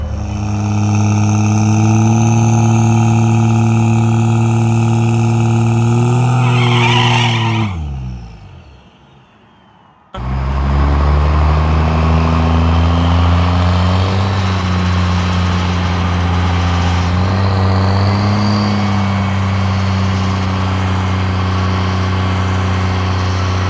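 A turbocharged car revs loudly and steadily near the mic, its engine tone climbing, then drops off briefly during a gear change before surging back at full strength and holding a sustained, droning pull.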